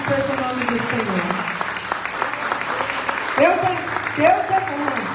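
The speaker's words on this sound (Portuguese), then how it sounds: "Você pode aplaudir o Senhor?" Continuous applause from a church congregation praising the Lord, a thick even rattle of many hands, while a preacher talks over it.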